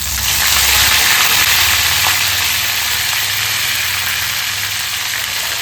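Curry leaves fry in hot oil with a loud, dense, continuous sizzle that stays steady and close throughout, with no voices.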